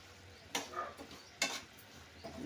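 A spoon scrapes and clacks against a pan while chickpeas and rice fry for Shivaratri laddu, with a few distinct stirring strokes over a faint sizzle, close and fairly quiet.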